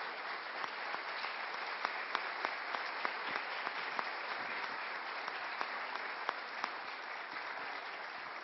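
Steady applause from a large audience honoring someone's memory at a public forum, dense clapping sustained evenly throughout with a few sharper individual claps standing out.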